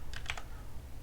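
A few quick, light keystrokes tap on a computer keyboard while searching in a Linux desktop. The short burst is close but quiet, with no talk.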